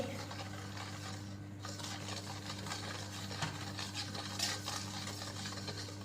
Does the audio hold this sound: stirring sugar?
yes